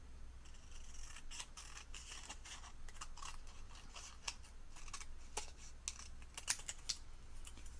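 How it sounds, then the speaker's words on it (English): Scissors snip a strip from a leftover fabric bag handle in a series of quick, close, crisp cuts, with no talking. "I'm just going to cut a strip"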